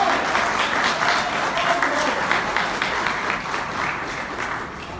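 Applause for Paulo at the launch of a Brazilian parliamentary front for penitentiary system development; a crowd claps steadily with individual claps standing out, slowly tapering in loudness, with faint voices mixed in.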